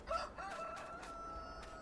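Video game chickens in Farming Simulator 19 give a rooster-like crow and clucking calls over a steady electronic background hum, with no talking.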